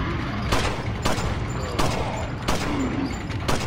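Repeated gunshots aimed at an archer in Resident Evil 4, spaced about every second or so over a steady loud game ambience, each shot a sharp broadband crack.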